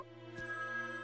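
A telephone rings in the video game Dragon Ball Z Kakarot, a faint, steady electronic ring over quiet background music.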